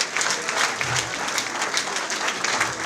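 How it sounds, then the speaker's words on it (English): Audience at a lecture on the economic implications of a restructured Nigeria breaks into dense, sustained clapping, loud and even with slight swells, and no speech over it. "Give me a round of applause"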